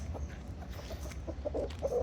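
A McLean x Miner blue gamefowl stag, 4 months and 28 days old, and other chickens cluck in short, scattered bursts over a low background rumble, with a few sharper calls near the end; fairly quiet and nearby.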